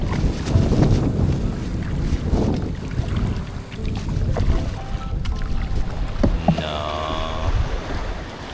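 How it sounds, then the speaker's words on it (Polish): Kayak paddling on the sea off tropical islands near El Nido, with steady gusty wind rumbling across the microphone, soft water splashes from the strokes and a few faint tonal sounds near the end. "ruszył na kajaku"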